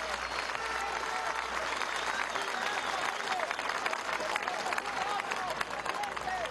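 A large outdoor crowd at a February 2015 political march in Venezuela applauds in memory of José María España, with steady dense clapping mixed with cheering and crowd babble throughout.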